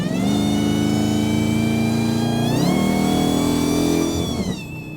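A 1,000-horsepower Dodge Hellcat Charger with the Ghoul package revs hard under acceleration, its loud supercharger-style whine climbing, then stepping through a gear shift midway before the engine note drops away near the end.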